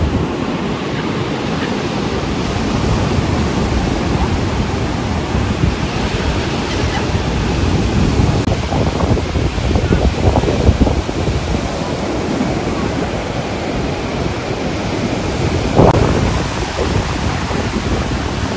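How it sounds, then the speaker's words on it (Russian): Stormy sea waves crash and roar continuously along the Odessa coast, loud and close, mixed with heavy wind buffeting the microphone and occasional stronger surges. "А море все штормит."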